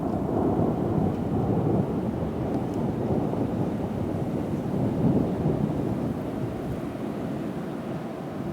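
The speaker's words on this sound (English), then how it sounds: "That was snow thunder." Thundersnow rumbles through a February snowstorm at 27°F, a deep continuous roar blended with strong wind buffeting the microphone, loud and sustained throughout with no talking.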